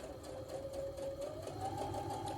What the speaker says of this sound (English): This should have been trimmed, but I'm gonna sew it